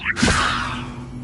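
The Levioso levitation spell in Hogwarts Legacy is cast with a sharp whoosh and crack, followed by a bright, shimmering magical swell that fades over about a second.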